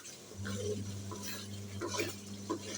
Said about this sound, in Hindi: ये थोड़ी सी हम ऐड करेंगे, तकरीबन आधा चम्मच। इसको मसाले के साथ ही थोड़ा सा भून लेंगे